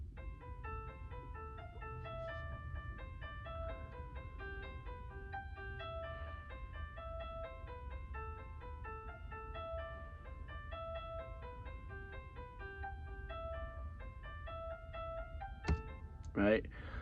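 A faint tune plays as a simple synthetic MIDI melody of clear, steady notes over a low hum, ending with a couple of sharp thumps; the fiddle is not clearly distinct.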